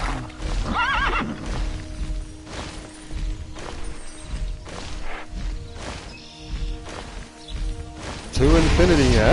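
A horse in the video game Tera neighs, with rising whinnies near the start and a loud one at the end, between hoof clip-clops and game sound effects.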